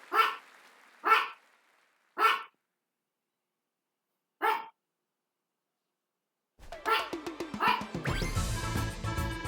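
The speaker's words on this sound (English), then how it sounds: "it's my dog barking in the background." A dog barks in the background, four sharp single barks spaced out in a quiet room, then a louder jumble of sound and game audio takes over.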